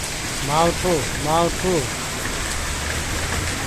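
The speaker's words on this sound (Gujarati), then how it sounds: "ખૂબ જ વરસાદ વરસી રહ્યો છે." Heavy rain pours down in a steady, dense hiss that fills the whole stretch, with a few short voice-like tonal calls rising over it early on.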